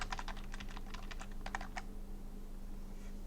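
Quick bursts of typing on a computer keyboard, a run of light clustered keystrokes over the first two seconds, then quiet with a steady low hum underneath.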